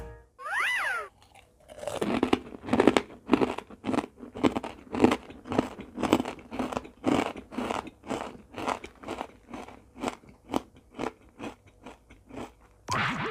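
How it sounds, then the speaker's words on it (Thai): Crisp pork rinds crunched in a long run of loud, close bites and chews, evenly paced and continuing steadily, with a brief packaging rustle at the start and no talking. "ตัวแคบหมูคือกรอบ ไม่เหม็นหืน"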